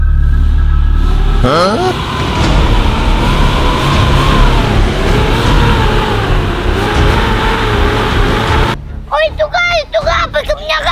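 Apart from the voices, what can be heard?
truck engine revving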